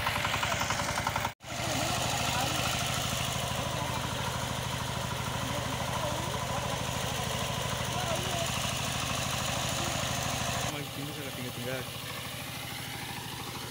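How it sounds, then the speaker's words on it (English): A small single-cylinder walking tractor engine chugs steadily at close range, its rapid putter holding even throughout, with a brief dropout early on and faint voices underneath. "this is how the way she is controlling her tractor"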